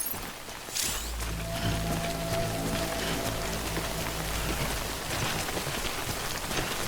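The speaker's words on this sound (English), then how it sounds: "Good thing it was raining." Timefall rain in the video game Death Stranding patters steadily on surfaces, a dense, even hiss that begins abruptly and continues throughout, with a soft low tonal drone underneath.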